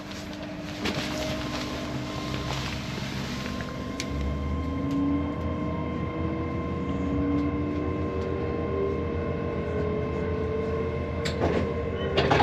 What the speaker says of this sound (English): welcome on board this LNER Azura to London King's Cross